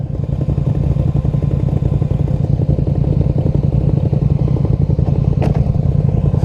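A Polaris Sportsman HighLifter 1000XP ATV fitted with racing cams runs loud and close, its engine putting out a rapid, steady pulsing throb with faint rattles.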